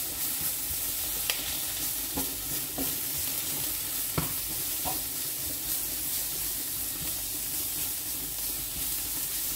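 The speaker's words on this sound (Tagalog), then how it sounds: "At ang ating tomato paste. So, yan. Cook natin ng 1 minute." Tomato paste frying in a pan for spaghetti meatball sauce, a steady loud close sizzle with occasional scraping clicks of a spoon stirring, no talk.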